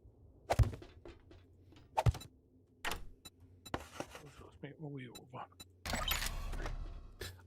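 A hatch in 7 Days to Die (Rebirth mod) thunks shut with a couple of sharp, close clunks, followed by further clicks and a heavier closing burst near the end, with people talking in between.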